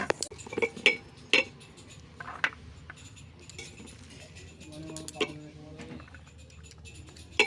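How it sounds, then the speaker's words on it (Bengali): Steel plates and cutlery clink while rice is served at home, scattered sharp chinks and taps over quiet room tone, with a short run of ringing metallic tones midway. "চলো তাহলে ভাত বাড়া যায়"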